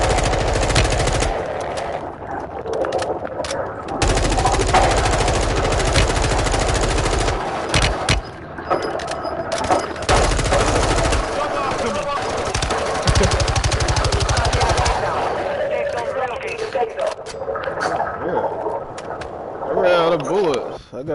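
Bursts of automatic rifle fire rattle loudly in repeated volleys during a Warzone 2 match, with players talking excitedly over the shooting.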